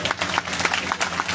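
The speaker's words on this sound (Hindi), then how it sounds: "जिन लोग ने लाए हैं उनके लिए ताली बजाओ कम से कम" A crowd at a Bhagwat katha religious gathering claps for devotees who brought homemade rajma chawal, a dense patter of hands nearby with some voices mixed in.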